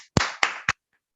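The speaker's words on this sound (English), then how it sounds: "Please join me with a rapturously resounding round of applause, distinguished Toastmaster Kubi Uyanga." At a Toastmasters club meeting, three sharp, separate claps ring out near and clear in quick succession, then silence.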